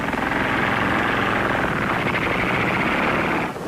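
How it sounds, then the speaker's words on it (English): A 1920s experimental aeroplane with turntable wings taxis along a field, its engine giving a loud, steady droning roar that holds for several seconds before cutting off abruptly near the end. "it's an aerial plane with turntable wings"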